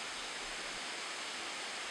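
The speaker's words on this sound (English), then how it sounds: "a beautiful waterfall like the one in Spearfish Canyon" A waterfall in Spearfish Canyon pours in a steady, even rush of white water that holds unbroken from start to end, moderately distant and fairly soft, with no voices.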